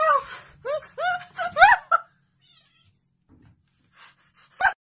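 A cat that fell into a bathtub gives several short, wailing meows in quick succession, then goes quiet apart from faint rustles and one last brief cry.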